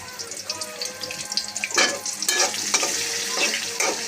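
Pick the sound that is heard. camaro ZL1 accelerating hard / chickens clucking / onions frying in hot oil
onions frying in hot oil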